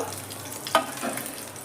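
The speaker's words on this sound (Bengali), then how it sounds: "যেমন পনিরগুলো আমার ভাজা হয়ে গেল" Paneer pieces frying in oil in a pan: a close, even sizzle with one sharp utensil clack partway through, and no talking.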